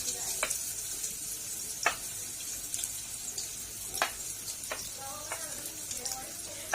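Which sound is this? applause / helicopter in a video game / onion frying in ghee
onion frying in ghee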